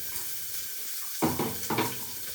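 Chopped onions going into hot oil with cumin in a home kitchen pan, starting a sudden sizzle in two bursts over a steady low frying hiss, with no talk.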